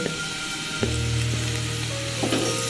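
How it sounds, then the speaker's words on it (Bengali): Chopped chillies dropped into a hot pan of vegetable pasta sauce, a sudden burst of close sizzling that settles into a steady frying hiss with faint stirring. "এরপরে দিয়ে দেবো আমি কেটে রাখা লঙ্কাগুলো"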